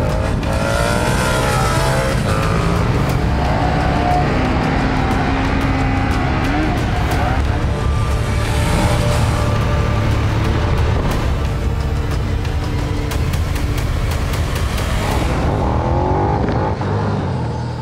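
KTM 1290 Superduke R motorcycle roaring loudly throughout, engine revving and shifting through gears at speed, with a voice talking over it.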